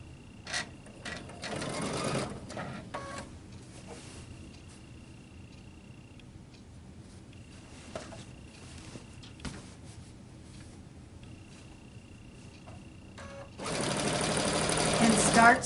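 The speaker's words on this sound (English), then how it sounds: "Start sewing." A sewing machine stitches binding onto a quilt in short bursts of whirring, with a longer steady run at the end and quiet handling of fabric between runs.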